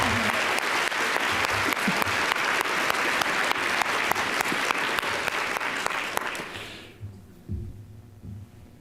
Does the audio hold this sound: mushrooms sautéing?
no